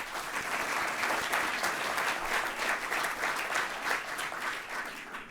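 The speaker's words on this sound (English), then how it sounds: "So please join me in a round of applause for them and the library as well." An audience at a United Nations lecture on pediatric critical care applauds in a long, even round of clapping from many hands, steady throughout and fading slightly at the end.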